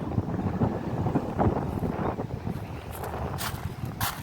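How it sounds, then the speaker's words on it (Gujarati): Strong wind roars and buffets the microphone in a low, rumbling gust near wind turbines at Dwarka, with brief airy hissing bursts toward the end. "પવન એટલો ફૂલ છે"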